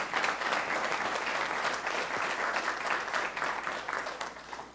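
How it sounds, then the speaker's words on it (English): A keynote audience breaks into steady, dense applause, a continuous wash of clapping that holds evenly and begins to taper at the end. "Now that you can applaud."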